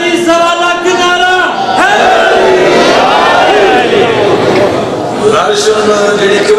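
A crowd at a religious gathering shouts slogans in unison, loud massed voices rising in rhythmic call-and-response waves that fill the space, with a lead voice calling out over them.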